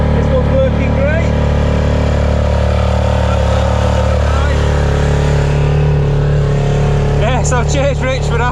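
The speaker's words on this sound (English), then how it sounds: "we got a new engine on. This one's working great." A small boat's new outboard engine drones steadily and loudly on a river, a constant buzzing hum close by, with faint bird chirps breaking through near the end.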